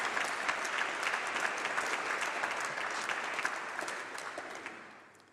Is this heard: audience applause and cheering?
yes